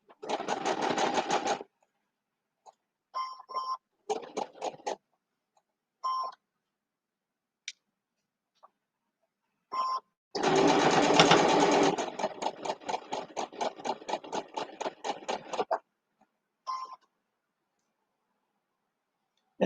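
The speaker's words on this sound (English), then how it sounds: "put my needle right in to my previous stitches, then put my foot down, then lock the stitch, and then continue on" A Gemini sewing machine stitches fabric in short bursts of rapid mechanical chatter separated by silent pauses, then one longer run of steady stitching, close and clear with no talking.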